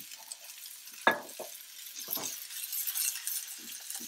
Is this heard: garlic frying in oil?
yes